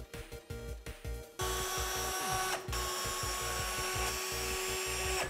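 A power drill whirs in short revving bursts, then bores steadily up into wooden stringers from underneath a kayak-and-plywood boat, with a continuous high whine and grinding for several seconds, close by.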